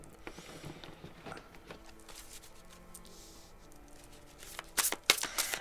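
Tarot cards shuffled by hand for a December Capricorn reading, a soft papery riffle and patter that runs quietly throughout, with sharper card snaps and slaps near the end.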